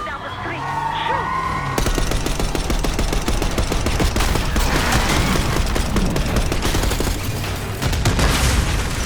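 Rapid automatic gunfire rattles loudly and continuously in Call of Duty Black Ops 6, dense bursts with booming impacts during a street ambush on an approaching limo.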